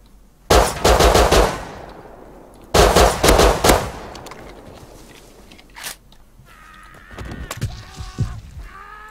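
Loud automatic bursts of AK rifle fire in the survival game Rust, two long rattling volleys close by, followed by scattered single shots and clinks fading into quieter game noise.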